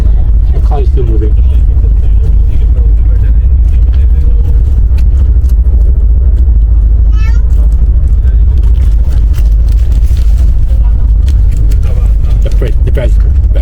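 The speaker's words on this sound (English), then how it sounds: "Our car is still moving." Car moving through traffic in New Delhi, a steady low engine and road rumble running throughout with occasional brief horn-like tones, while people talk nearby.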